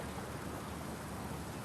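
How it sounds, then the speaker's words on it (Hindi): Rain falls steadily as a soft, faint, even hiss of drops on surfaces, with no voices and no breaks. "लेकिन बारिश हो गई"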